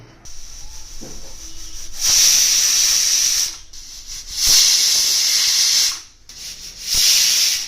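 A pressure cooker on a gas stove whistles while tender jackfruit bhaji cooks inside, letting out three loud, steady hissing bursts of steam, each lasting one to two seconds with short quiet gaps between them.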